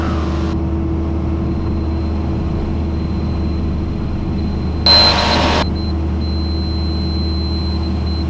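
Light aircraft engine holding a steady loud drone at full power on the takeoff roll along the runway, a constant heavy hum filling the cabin with a brief extra hiss partway through.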